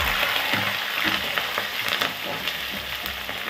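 Crushed ginger and curry leaves frying in oil for egg rice, giving a loud, continuous close-up sizzle with faint stirring scrapes and no talking.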